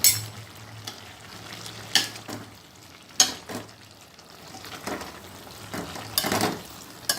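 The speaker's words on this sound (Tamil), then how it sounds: "இப்போ இந்த அவியலில் கொஞ்சமாக தேங்காய் எண்ணெய் சேர்த்துக்கிறேன். சேர்த்துட்டு கலரி விட்டுடலாம்." Aviyal, a mixed vegetable dish, being stirred in a pot after a little coconut oil is added: intermittent scraping strokes of a spoon against the vessel, several soft bursts spread across a quiet background.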